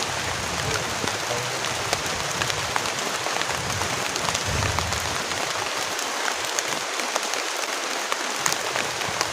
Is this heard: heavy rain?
yes